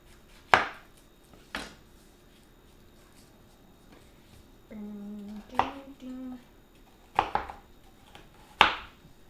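Several sharp knife chops on an onion against a cutting board, spaced irregularly, close and fairly loud, with a brief stretch of low tonal sound in the middle.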